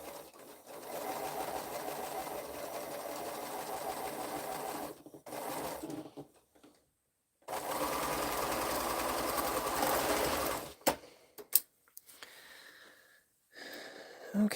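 A sewing machine stitching a quilt runs in long steady whirring bursts, stopping briefly between them, then gives a few short clicks and stitches near the end, loud and close with no talking.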